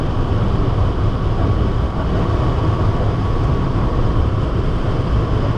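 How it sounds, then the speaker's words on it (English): Continuous loud rumble of a moving passenger train in India, steady rolling noise with wheel clatter throughout and no talk. "Don't jump on a moving train."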